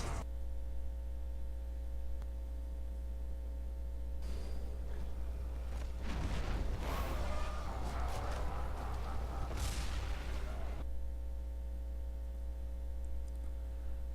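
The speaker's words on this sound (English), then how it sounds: "He shows you each fireball before letting it go." Fireballs and ground bursts from the demon boss Azmodan in Diablo 3, a cluster of muffled booming impacts and crackling blasts over a steady low hum, loudest mid-clip and then falling away.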